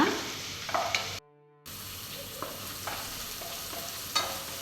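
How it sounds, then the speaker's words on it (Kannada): Ginger garlic paste frying in a pan for a cauliflower gobi fry, a steady close sizzle with scraping stir strokes, briefly cut out near the start before the crackle resumes. "ಜಿಂಜರ್ ಗಾರ್ಲಿಕ್ ಪೇಸ್ಟ್ ತಗೊಂಡಿದ್ದೇನಲ್ಲ, ಅದನ್ನು ಹಾಕ್ಕೊಳ್ತಾ ಇದ್ದೇನೆ. ಸ್ವಲ್ಪ ಹೊತ್ತು ಫ್ರೈ ಮಾಡ್ಕೊಳ್ಳೋಣ."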